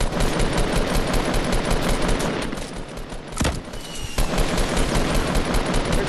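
Dense, loud automatic gunfire rattles almost nonstop through a video game firefight, with sustained bursts that briefly thin out near the middle before resuming at full intensity.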